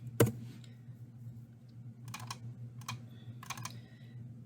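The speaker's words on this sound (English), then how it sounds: "As you can hear, I have to click like so many times to get that to pop up." Computer mouse clicks while making a thematic map on a computer, one sharp close click followed by several soft clustered clicking bursts over a low steady hum, quiet with no talking.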